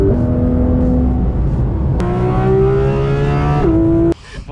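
Porsche GT3 RS accelerating hard, loud close engine roar climbing through gears with sharp rising pitch and brief shift breaks, then cutting off abruptly.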